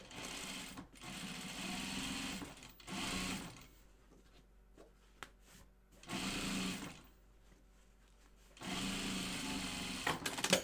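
A sewing machine top stitches a fabric bag in several separate runs of fast, even needle chatter, separated by quiet pauses with light handling sounds.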